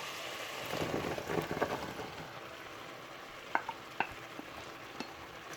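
Radish pieces and radish stems are tossed into a pan of cooking fish, giving a soft, fairly faint frying hiss with stirring rustles, then a few sharp taps of a utensil on the pan; no one speaks.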